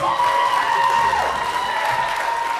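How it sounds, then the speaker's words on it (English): Crowd applause at a battle of the bands concert, a steady wash of clapping with a sustained tone ringing underneath throughout. "give yourself a round of applause"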